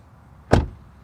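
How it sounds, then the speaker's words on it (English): A 2020 Subaru WRX STI Series White door heard from outside the car: a single solid, fairly close thud of the door shutting, briefly preceded by near silence. "Door open and close sound from the outside"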